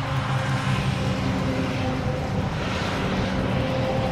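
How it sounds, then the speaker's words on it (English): A big tractor trailer rumbles down a narrow street, a heavy, continuous low engine and tyre roar that stays loud and close throughout without any talking. "A big old tractor trailer coming down this little narrow street."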